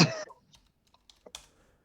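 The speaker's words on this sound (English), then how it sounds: "I'm typing it into the Googles right now." A few scattered key presses on a computer keyboard while a web search is typed, faint and sparse, following a brief loud cough or throat sound at the start.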